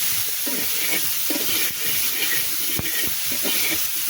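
Potatoes fry in hot oil with cumin, garlic, salt and turmeric, sizzling and hissing steadily at close range while being stirred, with occasional scraping clicks and no talk.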